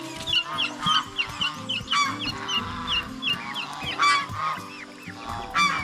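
Geese at a farm honk repeatedly nearby, with uneven bursts of calls overlapping one another and some softer fowl clucking in the background.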